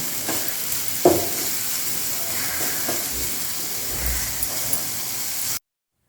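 Grated sweet potato sautéed in a pan for a Maha Shivaratri prasadam, a continuous close sizzle with occasional scraping stirs of the spatula, cutting off abruptly.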